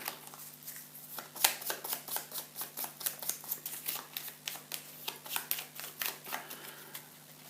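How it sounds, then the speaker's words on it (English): Board game cards for Dawn of the Zeds 3rd Edition being shuffled by hand, a steady run of crisp riffling bursts repeating about every third of a second, close and clear with a faint steady hum underneath. "There are new Act 3 cards. Shuffle them in."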